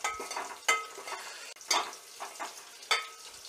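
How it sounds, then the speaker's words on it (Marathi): Green chillies sizzling in a hot garlic tempering (phodni) for a Maharashtrian alu fatfata, with a steady frying hiss broken by a few sharp stirring scrapes of a spoon against the pan, close by. "आता ही जी फोडणी आहे ती आपण छानपैकी परतून घेऊयात."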